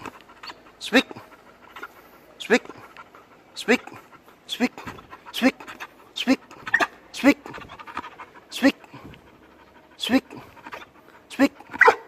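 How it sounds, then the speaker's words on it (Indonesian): A Labrador retriever during food-drive training gives short, soft vocal bursts like huffs and small barks, repeated about a dozen times at uneven intervals, close by, while a trainer talks in between. "Awalnya kita kasih asal dia mau menggeram atau mengeluarkan suara, menggonggong kecil"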